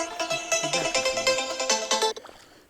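Mobile phone ringtone ringing at night on a riverside fishing trip on the Desna, a steady repeating melodic tune playing loud and close for about two seconds before cutting off.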